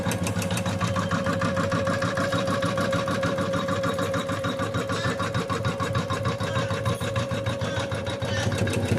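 A home embroidery machine stitching a design with a loose-thread problem: a fast, steady mechanical whir and needle chatter, close and continuous, with no voices.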